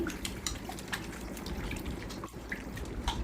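Close, quiet splashing and dripping as raw chicken is rubbed and swished around in water in a bowl, in uneven little bursts.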